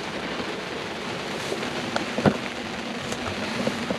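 Rain falls steadily on a sailing boat out in the Norwegian archipelago, a soft continuous patter with a few sharper drops striking nearby surfaces.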